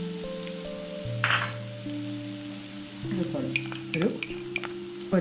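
Spices such as pepper powder, garam masala and Kashmiri chili powder are stirred and fried in a pan for Chicken 65. Soft sizzling and scraping stir strokes come and go, close by, over a sustained tonal background.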